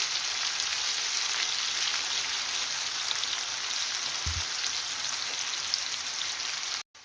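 Onion and boiled potatoes frying in a pan over a low flame, a soft, even sizzle that crackles steadily throughout and cuts off abruptly at the end.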